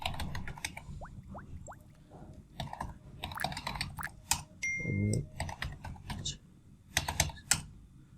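Rapid keystrokes clatter on a computer keyboard in irregular bursts and pauses, close and crisp, as a title is typed into a PowerPoint slide.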